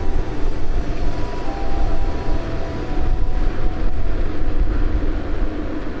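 An ISINWHEEL U2 electric scooter climbs a hill outdoors, giving a steady, loud, broadband rumble of motor and rushing wind that holds without a break throughout.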